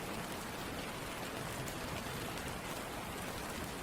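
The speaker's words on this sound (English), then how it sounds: "listen to the gentle sound of the rain" Gentle rain falls in a continuous, even wash of fine drops, a steady hiss with no pauses or voices, moderately soft and unchanging for several seconds.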